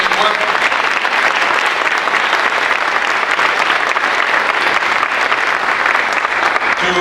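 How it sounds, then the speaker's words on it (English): Loud, dense applause from an audience at a civic event announcing a downtown revitalization grant, continuous and close for about seven seconds with a faint murmur of voices underneath. "Let's give a round of applause to Matt Horn"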